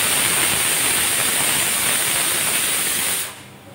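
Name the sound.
pressure cooker hissing steam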